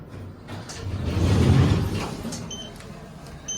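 A Schindler 3300 traction elevator at a mall department store gives off a low rumbling creak that swells and fades over a few seconds, with faint mechanical clicks toward the end.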